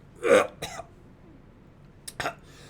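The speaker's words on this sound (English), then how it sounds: "He coughs a bit harder and vomits a bit in the sink." A man coughing hard into a sink, two close rough bursts of coughing separated by a short quiet gap.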